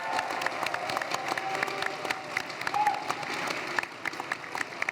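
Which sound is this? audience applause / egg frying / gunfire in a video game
audience applause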